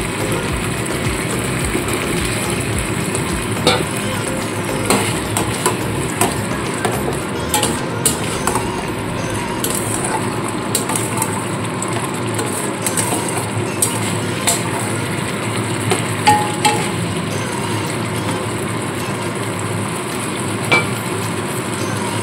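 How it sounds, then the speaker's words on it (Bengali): Potatoes stir-fried with spice paste in a pan give a steady sizzle and scattered scraping and stirring clicks, heard close and continuous throughout. "আলুর সাথে মশলাটা কষাতে থাকবে।"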